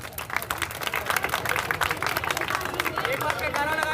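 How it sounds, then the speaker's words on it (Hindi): Steady applause from a large crowd at an outdoor Independence Day celebration, dense clapping that fills the space for several seconds with a murmur of voices mixed in. "तालियां तो बजाओ"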